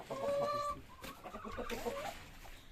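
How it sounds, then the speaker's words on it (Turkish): A rooster clucks a few times, fairly quiet and a little distant, against a faint noisy background. "Bu horoz buraya girmiş"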